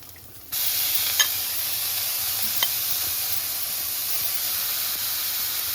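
Greens (gimi shak) frying in hot oil in a wok, a loud steady sizzle and hiss that starts abruptly and continues unbroken, with a couple of faint clinks.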